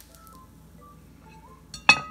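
A rice tortilla made from leftover Chinese rice is flipped out of one pan into another, ending in a single loud metallic clatter of pan on pan after a quiet stretch with faint kitchen background.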